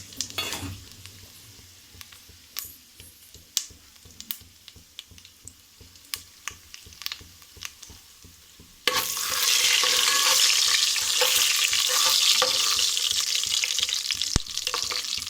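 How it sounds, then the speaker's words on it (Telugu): Scattered clinks and taps of a utensil against a pan, then a sudden loud, steady sizzle as tempering spices hit hot oil and keep crackling. "ఆయిల్ వేడైపోయిందండి. ఇప్పుడు మనం ఇది తాలింపు సామాన్లు వేసేసుకుందాము."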